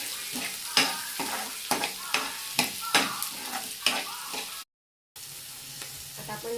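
Fenugreek leaves for methi bhaji sauté in a pan, a close sizzle with regular scraping stirs, cut by a brief silence before the frying resumes.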